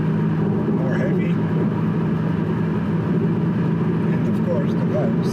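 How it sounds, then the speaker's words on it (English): An Audi S8 cruises in sport mode with its exhaust valves open, giving a steady low engine and exhaust drone inside the cabin. "The valves are open. You can hear the valves."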